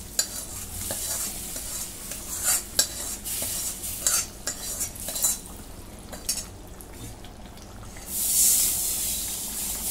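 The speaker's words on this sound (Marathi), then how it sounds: "आता मी ही फोडणी याच्यामध्ये टाकून घेते." Hot oil tempering sizzles and hisses as it is poured into a pot of whole masoor lentils while a spoon stirs and scrapes, ending in a louder burst of sizzling.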